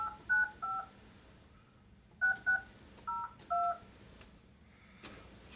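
A phone line dials out to a household with a string of two-tone touch-tone beeps, one pair, then a pause, then four more in quick succession, crisp over a quiet line hiss.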